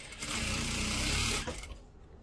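A sewing machine with a loose screw rattles loudly in a quick burst of about a second, then stops, leaving quiet room tone.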